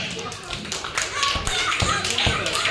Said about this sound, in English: Come on, clap for Subhash